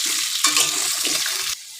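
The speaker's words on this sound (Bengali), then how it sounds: "লাল করে ভেজে নেব।" Potatoes frying in hot oil in a kitchen, a dense close sizzle that swells as they are stirred, then cuts off sharply near the end; no speech.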